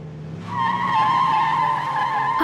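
A car skids to a stop with a loud sustained tire squeal that builds after a brief lead-in, heard alone as an audio-drama effect.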